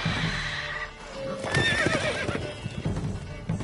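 Roach the horse whinnies in a video game, a clear wavering neigh rising over soft hoof clip-clops and ambient game noise.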